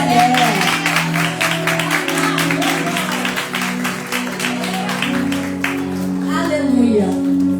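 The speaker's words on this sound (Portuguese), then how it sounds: "E você pode sentar aplaudindo a Jesus de Nazaré." Church congregation applauding during a festive Portuguese-language service, a dense steady patter of many hands filling the space, with sustained organ or keyboard tones and voices underneath throughout.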